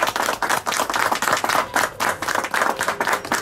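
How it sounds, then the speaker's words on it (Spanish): Crowd at a Catholic parish Mass for the Cuasimodo festival clapping in a loud, fairly rhythmic burst of hand claps that runs throughout, with no talking. "Le vamos a dar un aplauso a Jesús"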